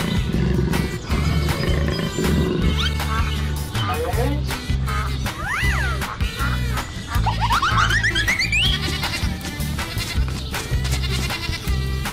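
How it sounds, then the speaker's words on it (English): A jaguar's roar rises out of a dense, busy children's cartoon soundtrack, loud and sustained across the clip, mixed with bleating-like calls and music. "Jaguar."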